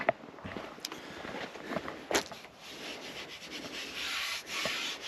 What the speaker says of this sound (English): Alright, I'm going to carry on sanding.